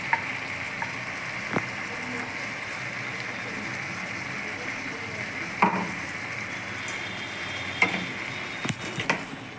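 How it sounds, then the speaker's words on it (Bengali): Tomato and ginger-garlic paste sizzle and fry in a pan while being stirred for ghugni, a steady close hiss with occasional clinks of a spoon against the pot. "এবার আমি এর মধ্যে কুঁচো করে রাখা টমেটো আর পেস্ট করে রাখা আদা রসুনটা দিয়ে দিলাম"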